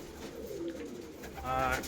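Pigeons coo softly in the female section of a loft where older birds are kept, brief low murmurs heard near a person talking.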